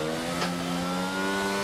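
A Formula 1 car engine runs flat out on the Miami circuit, a loud steady high-pitched drone with a brief sharp rise in pitch partway through.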